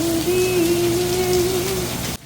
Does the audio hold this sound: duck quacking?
no